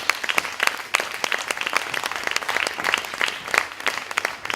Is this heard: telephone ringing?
no